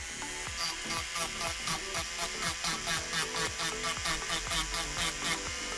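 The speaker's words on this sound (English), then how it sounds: "I'm just going to drill away" An electric nail drill files gently at a top-coated nail with a steady high whine that pulses in a quick, regular rhythm, sounding close and moderately loud throughout.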